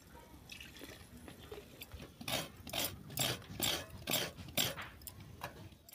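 Water drips and trickles as it is drained from soaked puffed rice in a village kitchen, a run of soft, close splashy pulses that grow more distinct midway, with no talk.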